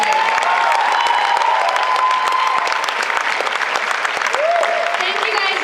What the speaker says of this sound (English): But you guys should all be applauded